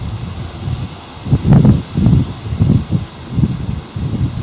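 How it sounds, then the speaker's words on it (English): Outdoor wind comes in several rough gusts that rustle and buffet, rising and falling in roughly half-second to one-second swells over a low, steady hiss. "wind's starting to pick up again"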